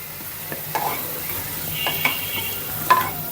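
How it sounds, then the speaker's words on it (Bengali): Potatoes stirred and frying in a pan. Several sharp spoon scrapes and knocks sound over a soft, close sizzle in a short burst. "খুব সুন্দর করে ভেজে নিতে হবে আলুগুলা"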